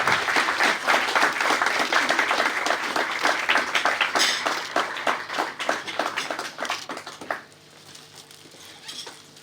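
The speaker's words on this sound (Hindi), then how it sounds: "एक बार छतें फट जाए, मैं कहता हूँ तालियों से, जोरदार तालियां" Guests applaud at a retirement party, loud dense clapping that carries on for several seconds, thins out into scattered claps, then gives way to a quieter room with faint hum.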